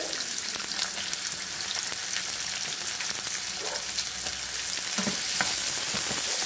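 Fresh garlic, onion and tomatoes cook in a pan as the base of a meatball cabbage soup, a steady close sizzle with light stirring and no speech.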